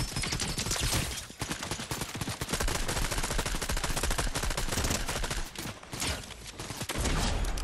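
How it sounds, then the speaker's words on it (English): Rapid video game gunfire, sustained bursts of shots crackling loudly and almost continuously, with brief gaps between volleys and no talk over it. "Somebody else is shooting at him."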